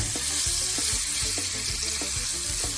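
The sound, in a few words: half lemon sizzling in pan with blackened salmon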